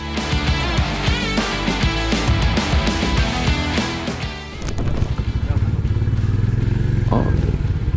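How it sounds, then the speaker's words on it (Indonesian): A Royal Enfield Hunter 350 motorcycle engine rumbles nearby, a loud low throbbing beat with clattering mechanical texture that dips briefly midway and then settles back to a steady, even idle-like thump. "Kali ini gue mau coba Royal Enfield Hunter 350 karena baru banget gue angkat nih"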